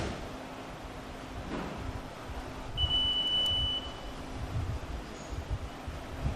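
A transmission exchange machine, the PETRA ATX-3, gives a single short electronic beep when powered on with good battery power, heard over faint wind-like background noise with no speech.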